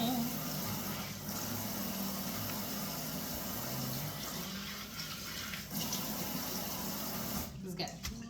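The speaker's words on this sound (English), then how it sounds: "Rinse it in cold water." Running cold tap water pours steadily for several seconds, a continuous close rushing splash with slight shifts as greens are rinsed beneath it.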